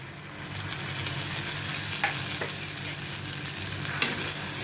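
Onions, crushed tomato and green chilli sizzling in a pan over a low flame, a steady hiss with a few soft scrapes and taps from a spoon as everything is stirred together.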